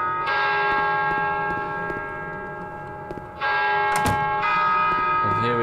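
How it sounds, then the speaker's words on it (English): A deep bell tolls in the video game Vermination, its long ringing tones sustained and fading, then struck again more sharply near the end, resonant and prominent over a low ambient hum. "And here we have the bell ringing again."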